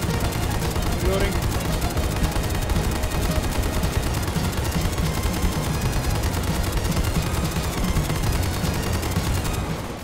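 LMG machine gun in the SCP 5K video game firing rapid sustained bursts across the whole stretch, loud and dense, with other game noise and voices in the mix.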